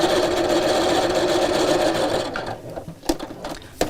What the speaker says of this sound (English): just lining up the edge of the foot with my previous stitch line, and you'll see we start to gather a little bit more